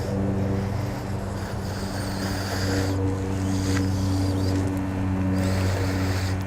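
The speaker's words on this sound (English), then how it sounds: "You'll have to pardon the street noise, the airplane noise." Steady outdoor engine drone in a yard beside a street, with a low humming rumble that fits passing traffic and an overhead airplane, continuous and moderately loud.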